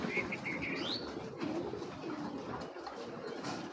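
Red checker pigeon pair cooing and calling close by, with soft chirps and a brief flutter of wings over a steady low background murmur.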